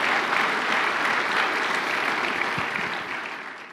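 A congregation at a Filipino church gathering applauds loudly, a thick continuous roar of many hands that holds steady before easing off slightly toward the end.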